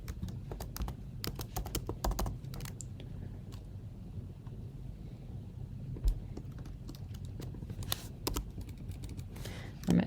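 Rapid, uneven keystrokes on a computer keyboard while entering a Bootstrap 5 web page heading, close and fairly loud, with clusters of sharp clicks over a low room hum and no talking.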